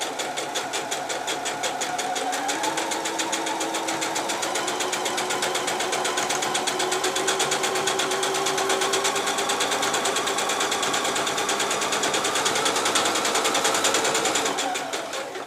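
A sewing machine fitted with a zipper foot stitches a zip into a cushion cover, running in one steady, close, rapid whir for about fifteen seconds before slowing to a stop.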